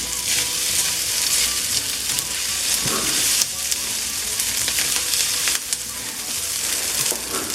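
Onion and ginger fry in oil with a loud, close, continuous sizzle full of crackles and spits, a few brief bumps and scrapes breaking through.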